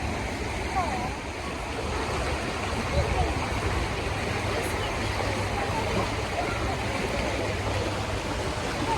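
Steady rushing water of a river flowing continuously nearby, a broad even wash of sound with no pauses.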